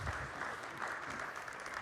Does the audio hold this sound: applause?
yes